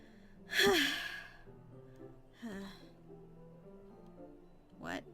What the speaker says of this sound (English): Sounds like breathing. A sharp inhale, like someone's sucking the air through their teeth.